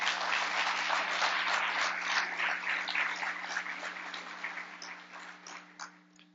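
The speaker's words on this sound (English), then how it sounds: "Please give a round of applause for our cellist." Audience applauds a cellist at a fall 2024 alumni awards ceremony: steady, dense clapping from a seated crowd that holds loud for several seconds and then gradually thins and fades out, no voices over it.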